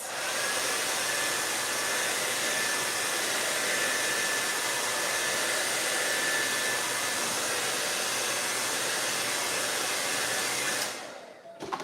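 A hair dryer blows steadily and loudly for about eleven seconds while drying a paintbrush during a painting session, then cuts off abruptly near the end.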